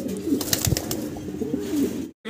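Lahori pigeons, a pair in blue barless colouring, coo in repeated low throaty rolls, close and fairly loud, with a brief drop to silence near the end.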